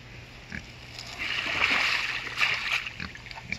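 Roughly 10 gallons of water dumped out outdoors near hogs, a sustained splashing pour lasting a couple of seconds, fairly close, with a faint grunt or two from the hogs.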